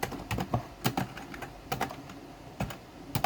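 Typing on a computer keyboard while entering program input, a quick irregular run of close, crisp key clicks and taps with short pauses between bursts.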